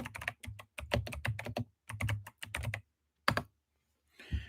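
Keys clatter on a computer keyboard as someone types a message into a live chat, in quick close bursts of clicks separated by short pauses, ending with a couple of isolated taps.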